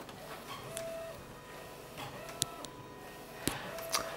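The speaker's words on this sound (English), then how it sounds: "I can actually see the print being printed" A P700 printer feeding poster board through its front feed, a quiet mechanical hum with faint motor whines and a few sharp clicks and ticks spaced a second or so apart.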